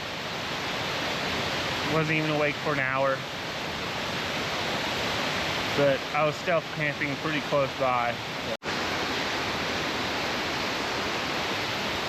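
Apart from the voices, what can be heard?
waterfall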